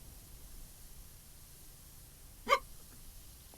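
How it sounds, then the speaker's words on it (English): A single sharp hiccup lands partway through, brief and close, against an otherwise quiet background of faint steady hiss. "Oh, hiccups are back."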